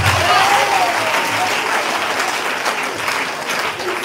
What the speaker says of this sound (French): on peut acclamer quand même, on peut acclamer